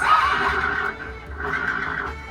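An animatronic horse's whinny rising and falling twice, steady and fairly loud, with a faint mechanical hum beneath.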